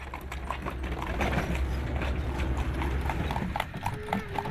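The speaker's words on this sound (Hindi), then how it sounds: "घोड़े को पाँव से जो टिक टिक की आवाज़ आती है वो बहुत अच्छी लगती है।" Horse hooves clip-clop in a steady, brisk rhythm on a road, moderately close, over a low rumbling background with faint voices.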